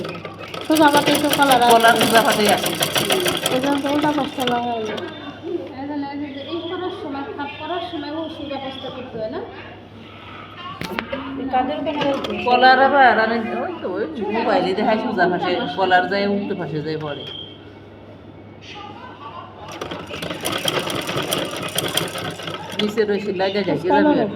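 An electric sewing machine stitches a fatua shirt in a tailoring setting, whirring steadily with short pauses while people talk over it throughout.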